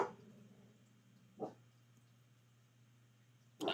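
A dog barks faintly in the distance, two or three short, separate barks spaced over a few seconds above a low, steady background hum.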